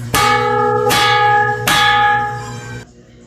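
A large handmade bell is struck three times at an even pace, each strike ringing loudly with a bright sustained tone that overlaps the next before fading out.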